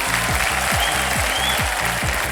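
A studio audience on the Kaun Banega Crorepati celebrity special applauds in a steady, even wash of clapping with a light rhythmic pulse running underneath.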